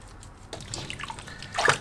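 Running water rinsing a male cat's paws, a soft splashing trickle that is close and fairly quiet, rising to a brief louder splash near the end.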